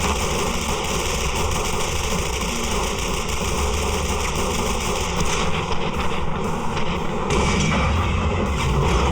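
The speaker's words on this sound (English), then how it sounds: "We fired a total of 74 rounds, and the torsos never stood a chance." Dense, continuous volleys of gunfire at a shooting range as roughly 74 rounds are fired at target torsos, loud and sustained with engine-like rumble underneath and no pauses.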